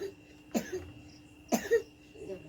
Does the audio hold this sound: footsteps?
no